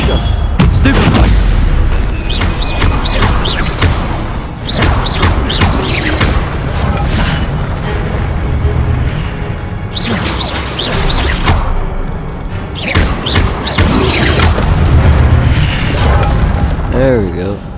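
Spell blasts and booming impacts burst repeatedly through combat in a Harry Potter video game, loud and dense, while a player shouts over the action.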